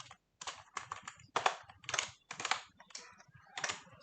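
Someone types code on a computer keyboard, sharp close clusters of keystrokes in quick bursts separated by brief pauses, with no voices.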